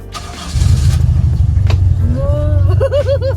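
Owner type jeep engine cranking and catching into a rough idle, close and loud, with a few short tonal squeaks near the end.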